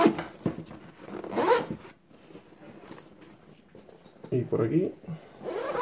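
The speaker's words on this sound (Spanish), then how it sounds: "Cerramos esta cremallera." A zipper is pulled shut on a HUKOER camping backpack in several close, scratchy zips, alongside fabric handling and someone speaking.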